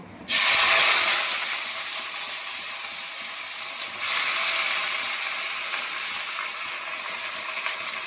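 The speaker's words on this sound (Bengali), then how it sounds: "পেঁয়াজটা দিয়ে আমি ভালো করে একটু ভেজে নিই।" Chopped onions hit hot oil already sizzling with bay leaf and dried red chilli, for a bottle gourd curry. A loud, close sizzle bursts in sharply and holds as a steady hiss, with a brief flare midway.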